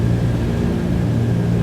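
Aircraft engines drone steadily at close range during a snowstorm approach into Yellowknife as the throttles are eased back on short final, a loud continuous low rumble with no voices.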